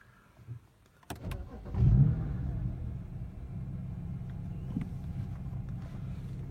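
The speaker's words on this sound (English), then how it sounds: "So if I just go start my car now" A car engine cranks and catches after a short pause, then settles into a steady low idle rumble that carries on, fairly close and moderately loud.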